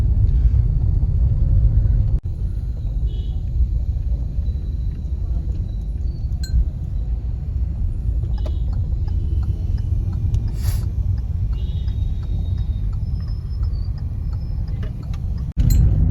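A car drives along a road through farm fields, following another family car. A steady low engine and road rumble from inside the cabin fills the whole stretch, with faint occasional ticks and no talk.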